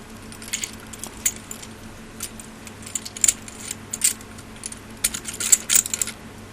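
Metal bolts for a Kenpro KR-5400 antenna rotator being handled at close range, giving scattered light clinks and jingles that come in small irregular clusters over a low steady background hum.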